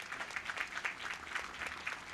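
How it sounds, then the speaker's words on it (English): Crowd applause for children at an outdoor Memorial Day ceremony, quiet and somewhat distant, with a rippling, uneven clatter of many hands. "applause for these kids"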